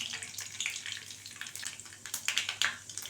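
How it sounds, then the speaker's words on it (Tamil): Mustard seeds and fenugreek sizzle in hot oil in a pan for a tamarind kulambu, a soft continuous hiss broken by quick, sharp crackles and pops from close by. "கடுகு சேர்த்துக்கலாம்."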